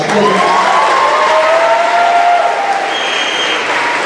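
Audience at an athletics awards ceremony applauding steadily, a full room of clapping with a few scattered cheers and voices mixed in, loud and sustained.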